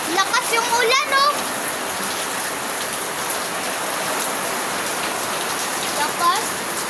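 Heavy rain pours steadily as a dense, continuous hiss of drops on surfaces, close and loud throughout, with someone talking briefly over it near the start and again toward the end.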